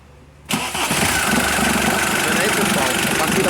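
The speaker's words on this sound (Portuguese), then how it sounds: "vamos dar a partida nela aí, Tom, por favor." A Ford Frontier pickup's engine, fitted with a new starter motor, cranks briefly and catches at once, then settles into a loud, steady idle with a slight rattle, heard close up without talk.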